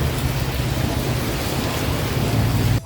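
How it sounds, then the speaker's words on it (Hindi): Heavy monsoon rain pouring steadily on a ride to Panshet, a dense continuous hiss with low rumbling underneath, loud and unbroken until a brief break at the very end. "अभी बारिश हो रही है"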